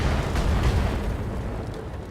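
A deep, rumbling blast rolls out as a turret is blown apart in the Battletech mech video game, loud and broad with a slowly fading tail.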